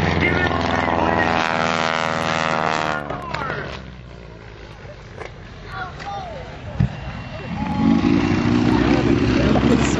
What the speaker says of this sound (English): He's got that steerman cooking along right now.